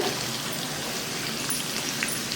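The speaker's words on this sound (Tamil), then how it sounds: "வெங்காயம் நல்லா வதக்கிக்கோங்க" Chopped onions and about fifteen whole garlic cloves sautéing in an iron pan for Chettinad mutton uppu kari give a steady, close crackling sizzle with a dense hiss throughout and no voices.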